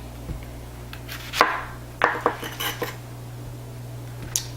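A knife cuts the ends off a peeled red onion on a board, giving a few sharp, close chopping knocks and clatters against a quiet background.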